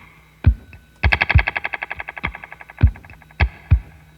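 Guitar effects from a looping board, a splash-style effect: sharp percussive hits followed by a rapid run of repeating, decaying pulses, then more scattered bright attacks, fairly loud and up close with no talking.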